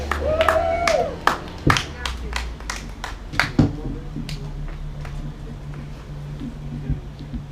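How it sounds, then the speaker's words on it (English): Scattered clapping from a few people in a comedy club audience, loud at first and then thinning out into occasional claps, with voices and room noise underneath. "Let's give him a nice warm round of applause."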